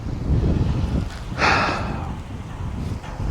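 Gusty wind buffets a microphone outdoors at a cold winter truck campsite, a steady low roar with a brief louder hissing gust midway, no talking.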